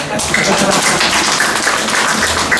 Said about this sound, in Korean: 박수 쳐셔야지.